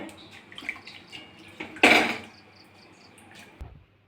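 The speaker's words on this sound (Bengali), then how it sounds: "মাছগুলো কেটে ধুয়ে নিয়েছি আমি একটু গরম জল করে ধুয়ে নেব" Cut pangas fish rinsed with hot water from a kitchen tap: a brief, fairly loud gush of running water lasts about half a second, set among quieter clinks and handling noises.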